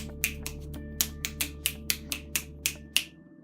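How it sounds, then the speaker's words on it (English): A person snaps their fingers about a dozen times in a loose, irregular rhythm, each snap a sharp, close, dry click over a quiet room hum. "Also snap my fingers a lot, apparently."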